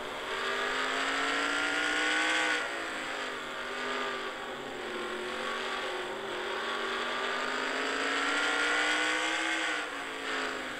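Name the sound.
race cars lapping the track, heard from the 35 Ford's roof cam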